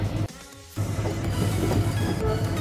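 A train rumbles steadily across bridge number 238 on a curving hilly line, a constant loud low roar with a brief dip in level early on, heard from aboard with no talk.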